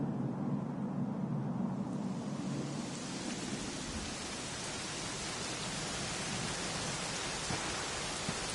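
Steady rain falling in the Dragon Quest 11 video game, a continuous broadband hiss that swells and brightens after the opening seconds and stays loud and even, with no talk.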